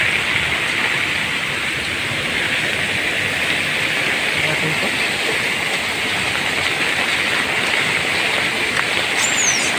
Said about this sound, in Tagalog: Malakas ang ulan, ganito ang itsura niya.